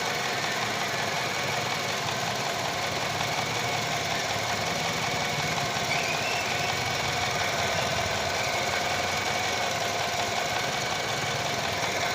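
A steady, loud whirring hum of a car radiator fan running alongside an idling engine, unchanging throughout with no voices.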